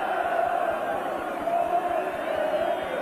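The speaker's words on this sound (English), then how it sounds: "the crowd have only one name on their lips" A large football crowd at Newcastle United versus Brighton and Hove Albion in 1984 chants Keegan's name, a dense sustained roar of voices with a steady rhythmic pulse, far and filling the space.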